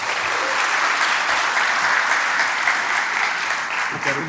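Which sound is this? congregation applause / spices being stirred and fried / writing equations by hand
congregation applause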